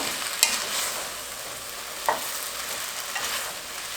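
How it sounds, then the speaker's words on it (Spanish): Mushrooms being stirred into a pot of cabbage soup with squash, soft scraping and faint sizzle throughout, with a couple of sharp utensil knocks against the pot. "Agregamos también los champiñones. Vamos a revolver un poco."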